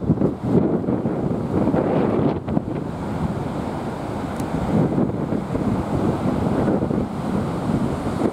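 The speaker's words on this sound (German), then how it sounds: "Heftige Winde" Strong warm southerly to southwesterly wind buffets the microphone over heavy surf and high waves aboard a sailing boat at sea, a continuous loud rushing roar with gusty bursts and no voices.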